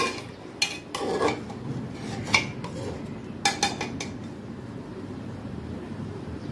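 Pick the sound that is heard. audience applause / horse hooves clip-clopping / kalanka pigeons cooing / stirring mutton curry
stirring mutton curry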